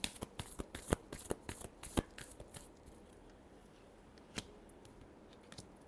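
Tarot cards being shuffled by hand, a quiet run of rapid riffling snaps that fades into soft rustling with a last faint flick.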